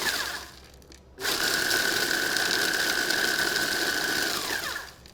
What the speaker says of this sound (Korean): 이렇게 푸드 프로세스에다가 전부 다 집어 넣으시고, 이런 거 할 때는 처음에는 세게 먼저 갈아 주셔야 돼요